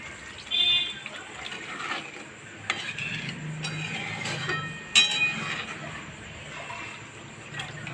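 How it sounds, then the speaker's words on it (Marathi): Water is poured into cooking masala to make a thin gravy for Vidarbha-style patodi bhaji, a steady wet pour with stirring and a few light clinks of utensils, close up, with no talking. "आता आपल्याला याला याच्यामध्ये थोडं पाणी घालून थोडी पातळ ग्रेव्ही बनवायची आहे"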